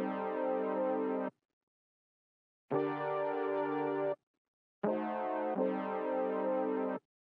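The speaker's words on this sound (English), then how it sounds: "So I found this brass sound in Mellotron that does have a little bit more low end to kind of fill it out" Mellotron brass patch with a full low end plays sustained chords in three loud blocks, each held for over a second with short silent gaps between, in an orchestral-style beat production.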